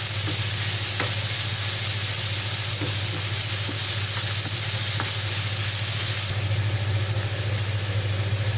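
Minced pork fries in a pan with a dense, even sizzle over a low steady hum, with occasional faint taps of a utensil and no talking.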